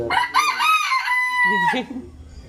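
A rooster resembling a jungle fowl crows once, loud and close, a long ringing call that ends in a few lower clucking notes, on a farm in Chavakkad, Kerala.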